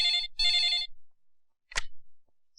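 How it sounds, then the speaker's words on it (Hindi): A telephone rings indoors in an office setting, two bright electronic trilling bursts followed by a short separate beep, loud and close with no talk over it. "एक मिनट सर, आपका फोन"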